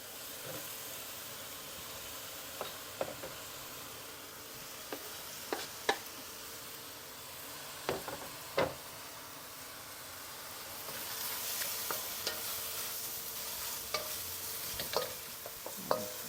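Mushrooms and bok choy being stir-fried in a wok for crispy chow mein, a soft steady sizzle with sharp clinks and scrapes of the spatula, the frying growing louder toward the end.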